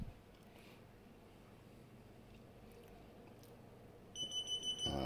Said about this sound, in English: now we've had our 5 beeps